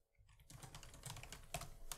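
Rapid clattering of a computer keyboard being typed on, a run of quick close key clicks starting after a brief quiet moment and continuing steadily.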